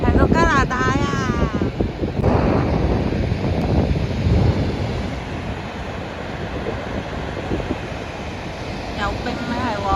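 Niagara Falls roars as a steady broadband rush, seen from the American side near Buffalo in winter with ice in the river; wind buffets the microphone throughout, and a voice speaks briefly near the start.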